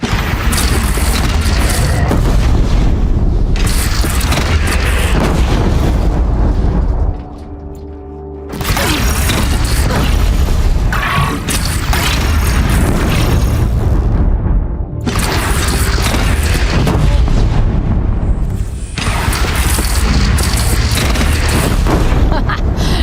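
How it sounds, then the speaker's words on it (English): Heavy booming cannon fire and explosions from a bandit clan battle in the video game Horizon Zero Dawn, loud and dense, rolling in long sustained bursts with a brief lull before erupting again. "They only have one cannon!"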